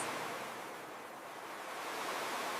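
Steady broadband wash of ocean surf on a Hawaii beach, a continuous even roar with gentle swells in level, no voices over it.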